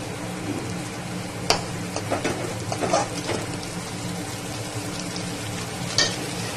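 Spice masala for a prawn curry sizzles in a hot pan as water is poured in, giving a steady crackling hiss with a few sharp clatters of a spoon against the pan.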